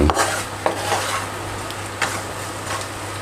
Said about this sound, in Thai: เนี่ยผัดเข้าไป หอม